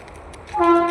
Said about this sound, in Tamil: ட்ரெயின் போகுது பாருங்கள்